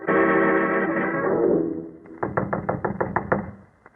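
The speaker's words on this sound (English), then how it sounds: "Knock once more, Watson." Knocking on a wooden cottage door in a radio drama: a sustained tone fades out, then a quick series of about eight sharp raps follows, close and crisp, with no voices.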